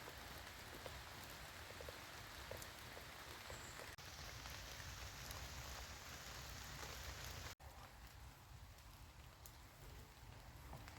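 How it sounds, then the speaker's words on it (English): Light rain falls on a summer forest camp, with a tent pitched among the trees, a soft, even patter of drops that continues steadily for the whole stretch, faint and unbroken, with no voices. "With a bit of rain down, isn't it, Billy"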